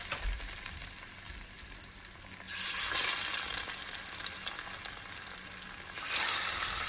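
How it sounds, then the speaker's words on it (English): Plantain slices fry in a pan, a soft hiss that swells into a louder, rushing sizzle around the midpoint and again near the end, heard close up with no voices. "Now we're going to fry our plantain."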